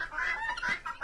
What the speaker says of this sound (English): So these are guinea hens, the polka-dotted chickens.